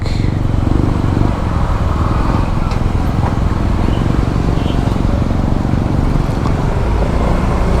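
Night street traffic during a motorcycle ride in Davao, a loud, continuous engine and road roar with passing vehicles and wind buffeting close to the microphone.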